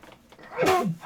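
A single sneeze bursts out near the mic in a quiet room during a casual card game, a short loud explosive burst that trails off.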